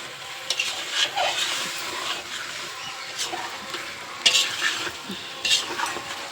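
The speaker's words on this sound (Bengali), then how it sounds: "এখন আলুর দম বসিয়েছি। তো এই যে এখানে আলুর দম হচ্ছে আমাদের" Aloo dum, a potato curry, cooking in a pan: steady soft sizzle and bubbling with periodic spoon scrapes and clinks of stirring, close and moderately quiet.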